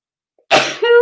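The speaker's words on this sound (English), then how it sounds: "I'm going to sneeze in a minute." A single loud, close sneeze bursts out suddenly after a brief silence, ending in a tonal, voiced tail.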